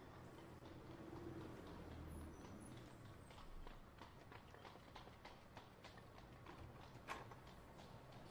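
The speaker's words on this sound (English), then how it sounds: "You can hear the horses and the horse carriages." Horses' hooves clip-clopping with carriage rumble in a quiet 1914 London street ambience in a visual novel game, steady and fairly faint in the background.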